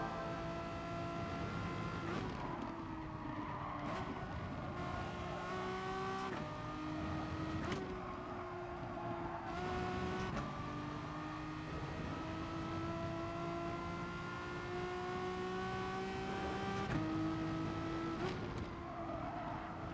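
Race car engines roar continuously in Gran Turismo Sport, steady high-pitched engine tones shifting pitch through gear changes every few seconds, loud and sustained with cars running close together in a slipstream.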